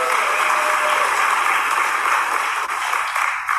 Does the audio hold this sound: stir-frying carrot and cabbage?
no